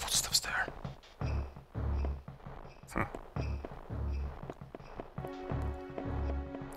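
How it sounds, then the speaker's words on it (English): Footsteps from a walking creature in the Metroid Fusion game, heard as a regular series of low thuds stepping along at a steady pace beneath game music, with no talk over them. "I hear some footsteps there."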